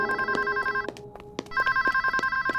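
A telephone rings indoors with a bright electronic warbling tone, repeating in short even bursts with a few sharp knocks and a brief pause in the middle before it resumes.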